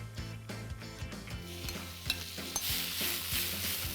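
Mixed vegetables and spinach are tossed and stirred in a hot pan with sesame oil, sizzling steadily with repeated scraping and clattering strokes of a utensil, close and clear.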